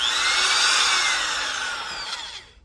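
An electric drill bores a hole in metal with a loud, continuous high whirring grind that holds steady, then tapers and winds down at the end.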